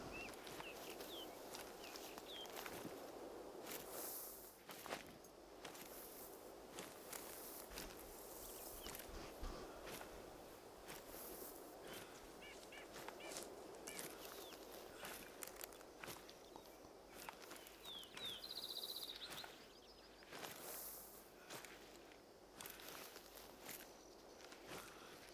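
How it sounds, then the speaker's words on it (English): Footsteps crunch through brush in Hunter Call of the Wild, quiet and steady over a long stretch, with faint bird calls in the background of an outdoor hunting ground. "Thought I heard footsteps"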